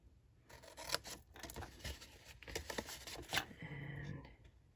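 Paper being cut with scissors while making a small Christmas gift box, giving a series of short crisp snips and rustles in uneven rhythm, up close and fairly quiet.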